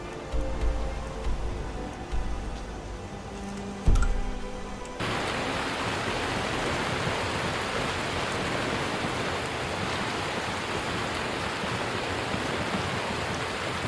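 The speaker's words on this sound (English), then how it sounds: "Yay, the rain's starting to go away." Steady rain in the video game Skyrim hisses as an even, broadband wash that swells up suddenly partway through after some quieter ambient sounds and a soft thump.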